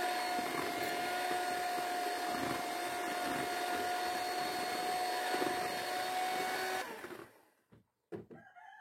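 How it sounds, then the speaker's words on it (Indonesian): Electric hand mixer beating eggs until blended and slightly fluffy, a close, steady motor whine with a constant tone lasting about seven seconds, then switched off, followed by a few faint knocks. "Selanjutnya mixer telur hingga tercampur dan agak mengembang."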